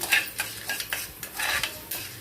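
Fenugreek seeds are sautéed in a pan, with a brief burst of light scraping and clinking from a spatula stirring over a faint sizzle, close and quiet with no talk.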